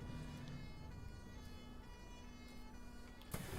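An emergency vehicle siren sounds in a video game set in London, holding a steady, fairly quiet wail under a low rumble, with a brief sharp knock near the end.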